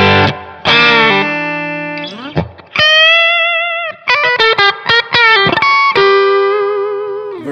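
An electric guitar plays through a Kemper profile of a Suhr Badger amp, with loud, sustained, nearly clean notes and chords in bursts and pauses, ringing with a long delay tail and no talking.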